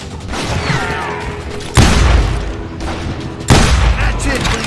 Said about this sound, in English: They're shooting in the street!